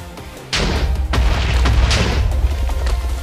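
A heavy, deep boom of an explosion in a video game, loud and close, with several rumbling bursts rolling over about three seconds.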